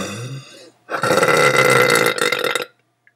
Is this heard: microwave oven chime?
no